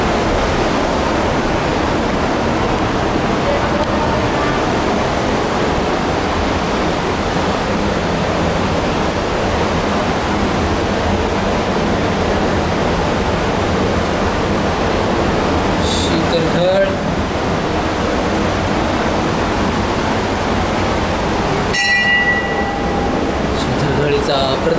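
A waterfall roars loud and unbroken inside Shivtharghal cave, a thick wall of rushing water filling the space throughout, with brief faint clicks and knocks near the end.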